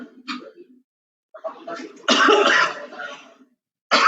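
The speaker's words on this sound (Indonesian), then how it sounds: "tiba-tiba saya batuk ya" A person coughs close to the microphone during an online lecture, with a small throat noise, then a rough cluster of harsh coughs, and another cough starting at the very end.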